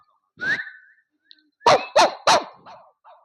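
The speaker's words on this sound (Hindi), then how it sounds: "मेरे इशारे पर भौंकना शुरू कर देते हैं" A dog yelps once, then after a pause barks three times in quick succession, loud and close, followed by a softer whine.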